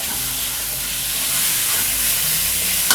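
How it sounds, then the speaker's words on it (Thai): Minced pork stir-fried in a hot pan for pad kaphrao gives a steady, close, broadband hiss and sizzle that runs throughout, ending with a brief clatter. "หมูที่เราสับไว้นะครับ ที่เราซื้อมาลงไปเลยครับผัดเลยนะครับ"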